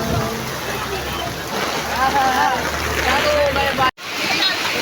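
Heavy rain pours down during a flood in Valenzuela City, Manila, a constant dense hiss of falling water with voices faintly underneath, broken by a brief dropout near the end.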